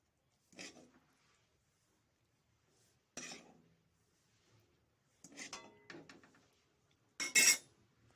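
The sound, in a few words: cooked chicken feet taken out of the pot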